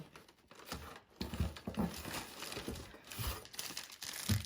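Protective paper wrapping from a delivered online-order parcel crinkles and rustles in close, uneven bursts, with soft handling noises throughout and no talk.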